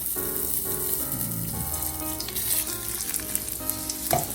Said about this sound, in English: we're gonna brown the package of sausage meat here